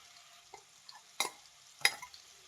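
Soaked paneer fries in melted butter over a medium flame for a dhaba-style paneer masala gravy. A faint, low sizzle sits under two sharper stirring scrapes and a few soft clinks, and no one speaks.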